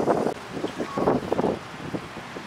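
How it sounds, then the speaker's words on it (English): Gusty wind buffets the microphone in low rumbling bursts, rising and easing over a couple of seconds, with faint road noise beneath. "I know it's so windy, sorry."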